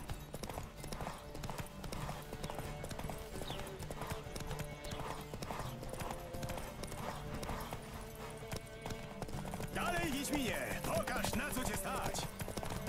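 Horse hooves gallop steadily in The Witcher 3 video game, a continuous rapid clip-clop rhythm running throughout at moderate level, growing slightly louder toward the end.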